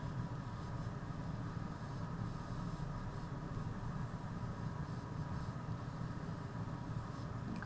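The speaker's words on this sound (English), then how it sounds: "So I'm going to draw a circle on my paper." Pencil drawing a circle on paper, a steady continuous scratchy scraping throughout, close and fairly quiet, with no speech.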